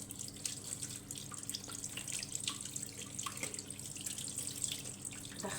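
Water runs steadily from a kitchen sink tap while crabs are rinsed clean of sand, a continuous close splashing flow with light clinks throughout.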